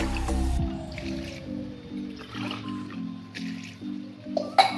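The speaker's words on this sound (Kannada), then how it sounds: "ನೀರು ಹಾಕ್ತಾ ಇದ್ದೀನಿ." Two to three glasses of water splash and drip into a cooking pan of moringa leaves in uneven bursts, with a steady low hum in the background and no talking.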